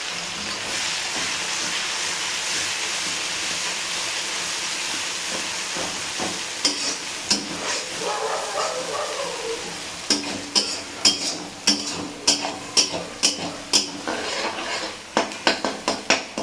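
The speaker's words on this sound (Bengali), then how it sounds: "চলুন এবার পেঁয়াজটা ভাজা ভাজা হোক।" Chopped onions and green chillies fry in a pan, a steady sizzle running throughout, joined in the second half by a series of sharp, rhythmic scraping knocks of a utensil stirring against the pan.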